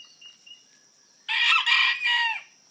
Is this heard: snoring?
no